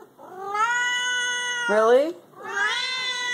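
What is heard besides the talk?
hungry cat meowing for food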